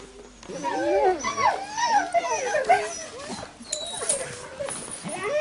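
Two Norrland husky sled dogs in snowy Swedish Lapland, harnessed to a sled on a village trail, whimper and yip in a steady stream of high, wavering cries, close and fairly loud.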